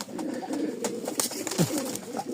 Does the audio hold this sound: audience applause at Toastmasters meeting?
no